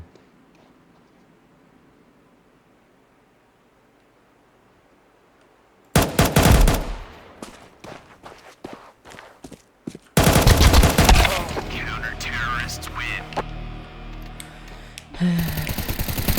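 Counter-Strike 2 gunfire: after a quiet stretch, bursts of rapid automatic shots and sharp single cracks ring out loud and close, followed by a dense sustained volley and another burst near the end.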